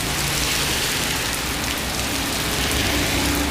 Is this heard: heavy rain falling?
yes